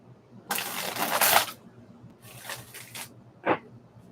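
Tarot cards shuffled by hand in three bursts of crisp riffling and papery slaps, close to the microphone, with quiet pauses between.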